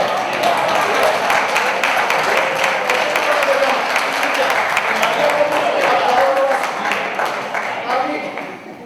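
An audience at a mystery-themed round-table conference in Zamora breaks into sustained applause, a dense, loud wash of clapping that fades slightly near the end.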